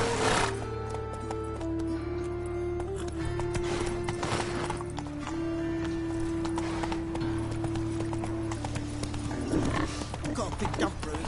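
Roach the horse's hooves clop along in The Witcher video game, a continuous run of hoofbeats mixed with snorts and a whinny, under game music and occasional talk.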